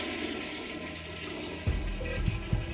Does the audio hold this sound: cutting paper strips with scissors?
no